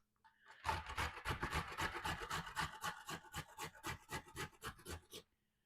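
Three carrots rubbed briskly against a metal grater for a Haitian pikliz slaw, a steady run of about twenty rasping strokes, close and fairly loud, with no talking.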